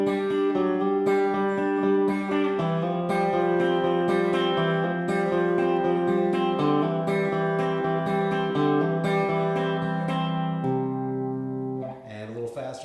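Guitar working through a chord progression with a banjo-style hybrid-picked roll, a steady, ringing stream of rolled notes at a relaxed tempo that fades out near the end, with no talking over it.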